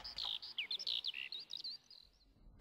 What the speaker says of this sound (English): The birds were singing.